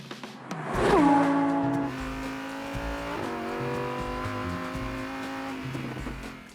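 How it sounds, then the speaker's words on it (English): A Lamborghini Huracan engine revs hard to a loud, rising peak, then holds a steady high-pitched drone as the car drives on, with a second rev climb midway, no talk over it. "Here's what a Lamborghini Hurricane sounds like."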